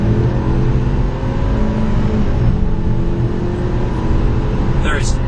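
A 2012 Ford Explorer Limited EcoBoost accelerating hard, its engine drone rising steadily in pitch from inside the cabin, loud and continuous, with someone talking over it the whole time.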